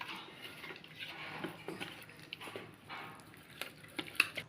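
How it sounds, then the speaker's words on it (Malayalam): Chicken being mixed with maida flour in a bowl, soft clinks and light scraping with gentle pattering taps, close and quiet, an irregular rhythm with a sharper knock near the end. "ആവശ്യത്തിന് മൈദപ്പൊടി ആഡ് ചെയ്തിട്ട് ഇനി നമുക്കിത് നല്ല രീതിക്കൊന്ന് മിക്സ് ചെയ്യാം"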